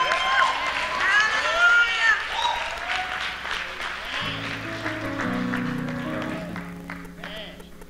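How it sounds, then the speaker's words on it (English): Church congregation clapping hands in praise during a morning service, with cheering and voices mixed in; the clapping fades as speech and a low organ-like tone take over. "let's give them a hand clap of praise"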